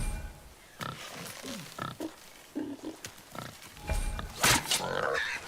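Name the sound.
wild boar grunting in God of War video game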